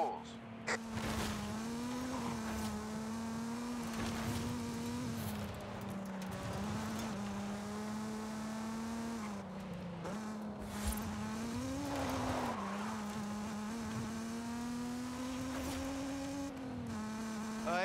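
A Mazda Miata is driven in the Forza Horizon 5 video game, through woods at the base of a volcano, its engine holding a steady, continuous buzzing drone that rises and dips slightly in pitch throughout.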